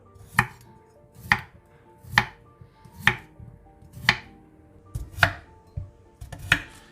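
Small unpeeled potatoes are sliced on a cutting board with a knife, seven crisp, evenly spaced chops about a second apart, close and clear with no voices.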